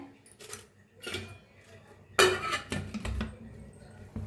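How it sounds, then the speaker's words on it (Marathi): A spoon scooping sugar and clinking against metal kitchenware while tea simmers in a pot, several separate close clinks and taps spread out with quiet gaps between them, and no talking. "आता टाकूया साखर तर दोन चमचे बघा साखर घेतलेला आहे"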